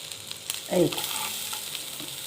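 Dried red chillies and garlic fry in hot oil for a Tamil Nadu style rasam tempering, with a soft steady sizzle and a brief louder burst of stirring near the middle, no voices.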